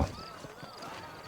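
Horse hooves clip-clop faintly under a voice in the Red Dead Redemption video game, set around a horse ranch where horses stand saddled and ready out front.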